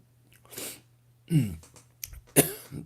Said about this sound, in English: I'm starting to get a cough